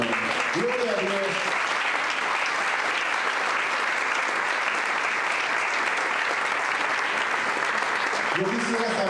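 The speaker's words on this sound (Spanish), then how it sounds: "dar un aplauso al Señor" A church congregation claps loudly and continuously during a Spanish-language service, a dense unbroken wall of applause with faint voices rising at the start and end.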